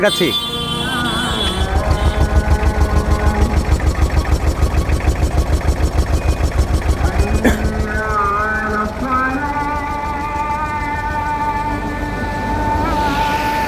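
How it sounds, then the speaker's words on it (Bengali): A Tata mini pickup truck engine idles with a steady rhythmic diesel-like chug, close and loud throughout, while someone talks over it. "গাড়িটা বর্তমানে স্টার্ট অবস্থা আছে আমি ইঞ্জিনের সাউন্ডটা"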